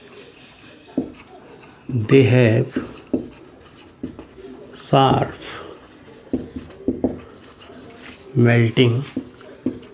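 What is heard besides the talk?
writing on a board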